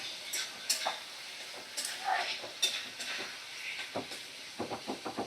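Masala frying in oil over a medium flame is stirred with a spatula, giving a steady soft sizzle broken by scraping strokes and a run of quick taps near the end, with a voice faintly in the background.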